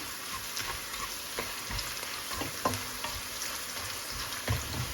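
Turmeric powder frying in hot oil for a bitter gourd pickle: a soft, steady sizzle with scattered scraping clicks as a spoon stirs the pan, close but quiet, with no talking.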